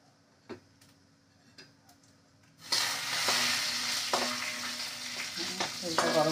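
Hot oil in a pan bursts into a loud, continuous sizzle after a few quiet ticks and taps, crackling on with occasional clinks of a utensil.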